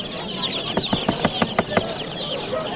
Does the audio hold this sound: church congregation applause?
no